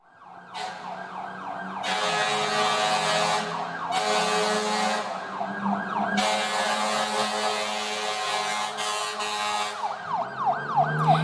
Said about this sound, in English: this is the sound of a fire truck driving by